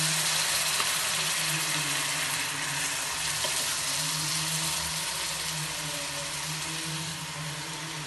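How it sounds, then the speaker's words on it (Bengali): Meat and spices go into a pan of fried onions, giving a steady sizzling and frying hiss that stays fairly loud and even throughout, with a low hum beneath it and no talking. "এখন আমি মাংস দিব, মাংস পুরোটা ঢেলে দিব এবং এখানে মশলা যা আছে মশলা সবগুলি সহকারে দিয়ে দেব।"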